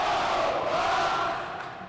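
Crowd at a Colorado Buffaloes ACHA college hockey game against the Colorado State Rams roars and cheers loudly in the arena, the sustained shouting fading slightly toward the end.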